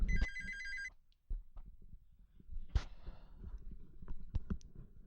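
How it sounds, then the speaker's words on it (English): A telephone ringtone sounds briefly at the start in a single short electronic burst, then gives way to handling clicks, a bump and faint fumbling noises. "Fucking phone!"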